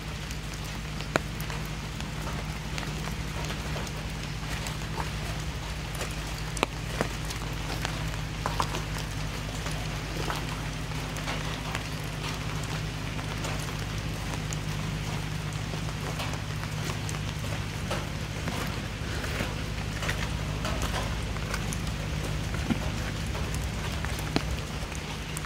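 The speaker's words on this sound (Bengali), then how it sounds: "বৃষ্টিটা একটু থামলে ভালো লাগে, একটুও থামছে না" Heavy rain falls steadily over a forested area, a continuous dense wash of drops with occasional louder taps from nearby surfaces, no voices present.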